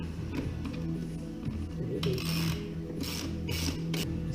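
Socket ratchet clicking on a BMW G310GS motorcycle's rear axle nut, a quiet rapid pawl chatter with metallic clinks and short bursts of effort, close and alone.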